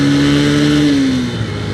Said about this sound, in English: let's start the bike, put it to first gear, and let's see how this goes